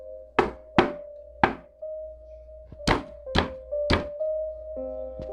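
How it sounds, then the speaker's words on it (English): Hard banging on a window, heard as a series of loud, sharp thuds in uneven groups, with a quiet sustained musical tone running underneath. "someone pops up from below the window and bangs on my window super loud 3 times"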